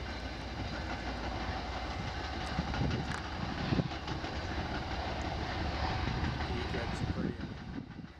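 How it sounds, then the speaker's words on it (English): A train crossing near a new commuter-rail drawbridge at a fishing port, a steady rumbling roar with rail clatter holding for the whole stretch, fairly close and loud, with faint voices beneath. "Train? Yeah."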